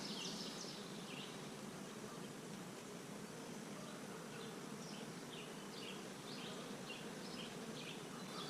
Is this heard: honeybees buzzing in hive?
yes